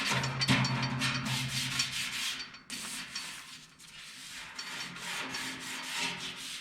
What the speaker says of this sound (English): We'll put some crisscross scratches in there.